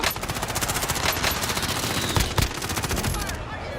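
Sustained rapid automatic gunfire from three enemies in Call of Duty: Warzone, a dense, loud rattle of shots that barely lets up before stopping abruptly.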